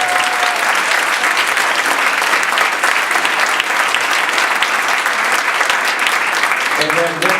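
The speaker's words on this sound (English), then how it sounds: "Give Nic a big round of applause." Sustained, loud audience applause at a sales conference, thick crowd clapping filling the whole stretch before a voice returns at the very end.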